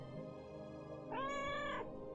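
A single drawn-out cat meow, clear and close, rising and falling over about a second against a steady low background hum.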